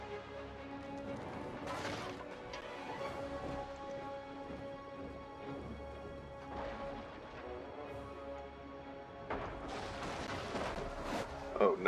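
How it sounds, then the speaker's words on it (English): Artillery pounds stone city walls during a Total War: Rome 2 siege battle, with scattered thudding impacts and crackling debris over a busy battlefield din, bursts clustering near the start and end. "I'm using my artillery to take out one of these walls"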